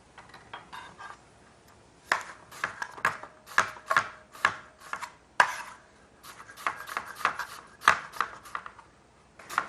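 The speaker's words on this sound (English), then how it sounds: "And then slice it." Paring knife slicing Fuji apple quarters on a cutting board, a run of crisp, evenly spaced chops close by, with a short quiet lead-in before steady cutting begins.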